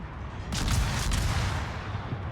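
Enemy ship guns fire in World of Warships, a single loud heavy boom of a naval salvo that swells and rumbles away over about two seconds, with no talk.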